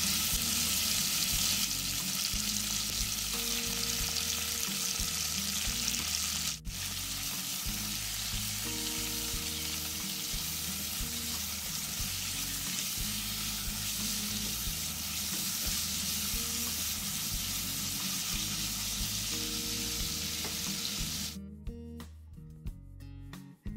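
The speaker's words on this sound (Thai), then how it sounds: "ผัดกระเทียมเหลืองแล้วหอมแล้วก็เอาหมูลงไปผัดเลยนะคะ" Pork stir-fried with garlic in oil over low heat sizzles steadily for a long stretch, with faint stirring and a brief break, ending in scattered clatter.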